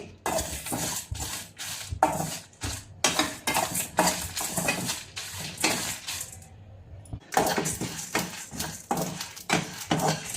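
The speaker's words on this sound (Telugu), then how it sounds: "ఈ ఖడా మసాలా అంతా ఇప్పుడు వేయించుకోవాలి." Whole kada masala spices being dry-roasted in a pan, with frequent clattering spoon scrapes and stirring knocks in an irregular rhythm, close up and alone.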